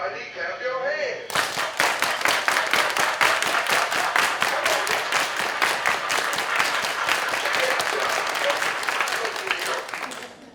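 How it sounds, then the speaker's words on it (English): A crowd of people claps along together at a kids' dance song session, a dense, steady rhythmic clapping that starts abruptly after a brief voice and continues loudly for about nine seconds. "Everybody clap your hands."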